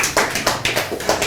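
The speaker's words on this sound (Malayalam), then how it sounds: "നല്ലൊരു ക്ലാപ്പ് ചെയ്യല്ലാരും" A small audience at a Malayalam talk show claps briefly in a quick, steady run of sharp hand claps, close and fairly loud, with no one talking.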